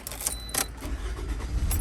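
Keys jangle and an ignition key turns in a Toyota RAV4, followed by a brief engine crank, heard close and fairly loud with no talk.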